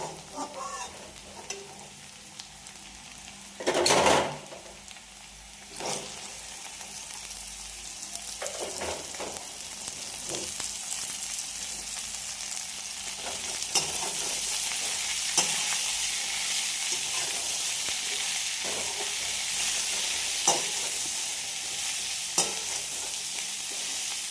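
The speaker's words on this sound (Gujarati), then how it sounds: "હવે આપણે આ સ્ટેજ ઉપર ભીંડા નાખી દઈશું" Okra dropped into a pan of browned onions, a soft steady frying sizzle with a brief louder clatter early on and scattered stirring knocks, growing slightly fuller toward the end.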